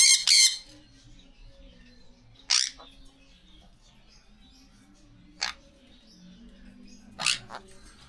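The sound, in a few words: pet bird squawking, lovebird or albino parakeet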